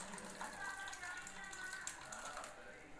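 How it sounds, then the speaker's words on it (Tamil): Cooking water from boiled horse gram is drained off and poured out in a kitchen, a soft, steady trickling and splashing stream that runs continuously at a moderate, close level. "இப்போ இந்த தண்ணியை நம்ம இழுத்து எடுத்துக்கிறோம் கொள்ளு ரசத்துக்காக"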